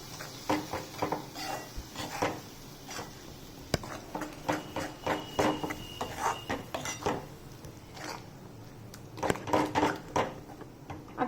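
A spoon scrapes and clinks against a cooking pot as spice masala for a sabji is stirred. The knocks come close and uneven, in short bursts with brief pauses, and no one speaks.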